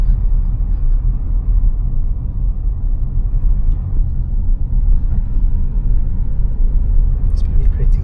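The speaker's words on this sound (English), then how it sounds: "you're just driving along a narrow road with dry stone wall either side of you" Car driving along a narrow Lake District road lined with dry stone walls, a steady low interior rumble of engine and tyres throughout.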